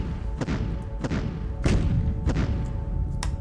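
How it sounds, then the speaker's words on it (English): Artillery bombardment in the wargame Decisive Campaigns: Ardennes Offensive at Bastogne, a series of about five heavy thudding shell impacts spaced roughly half a second apart, loud and close. "I'm going to just try to bombard them out of here"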